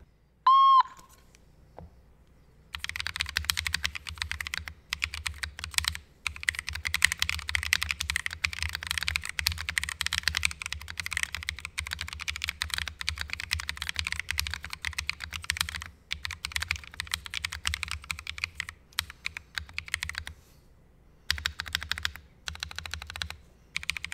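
Rapid, continuous typing on a Daisy40 mechanical keyboard fitted with KTT Mallo switches, dense close key clacks with a few short pauses and a brief tone before the typing begins.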